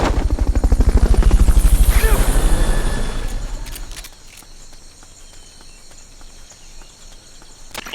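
Fulton recovery helicopter in the video game Metal Gear Solid Peace Walker, a loud rhythmic rotor thump that swells for about four seconds then drops away, leaving faint ambient game sounds and scattered small clicks.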